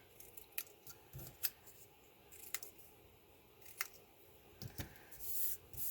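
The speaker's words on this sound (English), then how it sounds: "I just cut it in half, like so, and then just clip the corners off" Scissors snip card stock, clipping off corners in a series of sharp, quiet cuts spaced irregularly, near and without speech.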